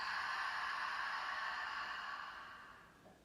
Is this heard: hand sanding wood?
no